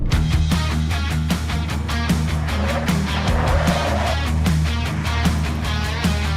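Renault Duster and Opel Combo 2021 driving in a comparison test at about 55 km/h, with a steady loud engine and road drone and repeated sharp bumps and rattles from the suspension over a rough surface throughout.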